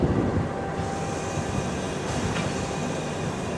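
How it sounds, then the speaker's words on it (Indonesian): A fuel tanker freight train rumbles past in Indonesia with a continuous roar of wheels on rails, loud and close, steady throughout with a faint high squeal midway. "Ini adalah kereta angkutan BBM ya"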